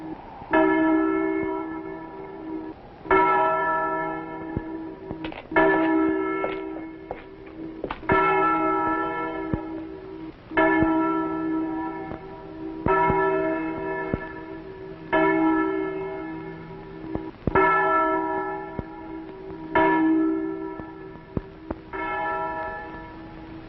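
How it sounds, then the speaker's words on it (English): A church bell tolls slowly and loudly, about ten rich ringing strikes at an uneven steady pace, each hum decaying into the next, with no other sound. "The sound of that bell."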